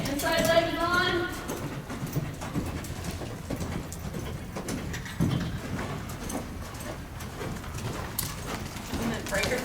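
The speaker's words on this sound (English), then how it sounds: "We'll go ahead and take her back up to the lope." Horse loping in an arena under a rider, a steady rolling clip-clop of hooves running throughout with a fairly close, continuous rhythm.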